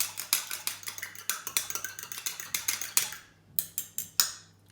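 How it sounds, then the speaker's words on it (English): Eggs whisked briskly in a bowl, a rapid series of light metallic clicks and taps against the bowl, close and distinct, slowing to a few separate knocks at the end. "Okay, another quick whisk."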